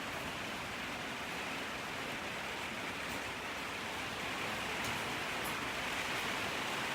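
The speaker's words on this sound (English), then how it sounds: "I'm seriously so over this rain." Pouring rain falls outside as a steady, even hiss of broadband noise, constant and unbroken throughout with no voices.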